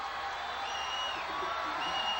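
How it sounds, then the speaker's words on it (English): Crowd of Stilwell Indians fans cheering at a 1992 Class 5A regional playoff high school baseball game at Tulsa McLain, a steady, distant wash of voices and whoops with no clear peaks. "Now the Stilwell fans have started cheering."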